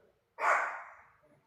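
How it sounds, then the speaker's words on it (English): A dog gives a single sharp bark close by, loud and sudden, then trails off over about a second. "Hey, Bruce, what you barking at, bud?"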